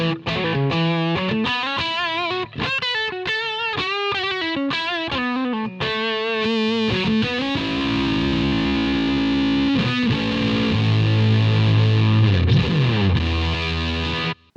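Electric guitar through an NRG Effects Fuzzer pedal plays a riff of thick, buzzing notes, then sustained distorted chords ring out loud and saturated.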